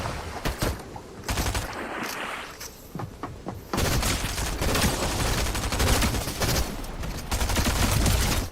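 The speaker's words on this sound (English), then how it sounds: "Somebody's still shooting at me." Video game gunfire in a chaotic shootout, with dense rapid bursts and overlapping shots that turn into near-continuous loud automatic fire in the second half, close and harsh.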